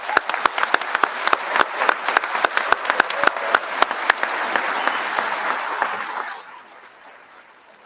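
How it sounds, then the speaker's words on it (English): Audience applauding a graduating police basic training class at the Kansas Law Enforcement Training Center: dense, close clapping from a crowd with sharp individual claps standing out, fading out after about six seconds. "So let's give them a round of applause"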